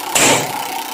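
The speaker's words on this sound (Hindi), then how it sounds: "स्कूटर" A scooter engine gives a short, loud revving burst of about a quarter second over a steady hum, then settles back to a low background drone.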